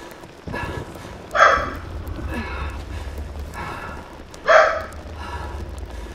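Dog barking in the game Returnal, two distinct barks spaced a few seconds apart over a low ambient game hum.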